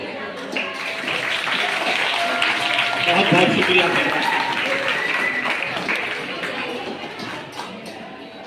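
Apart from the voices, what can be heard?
loud applause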